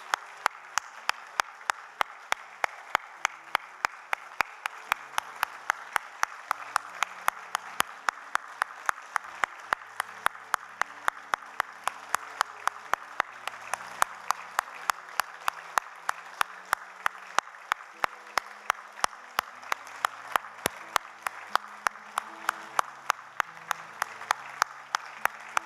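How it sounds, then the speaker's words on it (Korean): A church congregation applauds at an evening baptism service, steady sustained clapping filling the room for the whole stretch at an even level, with no voices standing out. "여러분 다시 한번 박수 해주시고"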